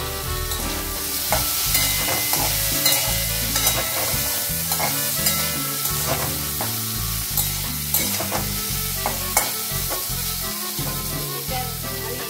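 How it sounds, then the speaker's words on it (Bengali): Potatoes are stirred and fried in a pan with a little oil, giving a continuous loud sizzle broken by repeated scraping and clinking of the spatula, with no talking. "আলু দিয়ে দিচ্ছি, আলুটাও জাস্ট আমি একটু নাড়াচাড়া করে"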